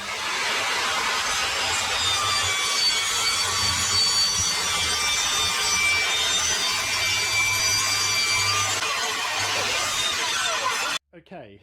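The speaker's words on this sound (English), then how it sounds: "the circular saw its first run out by taking it through there" An Evolution circular saw runs steadily through a wooden strip in a garage workshop, a loud continuous whining cut with a rasping wood texture that stops abruptly at the end.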